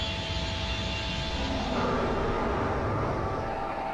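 A TIE bomber from a Star Wars video game roars past, a loud rushing engine whine that swells and shifts in pitch over a few seconds.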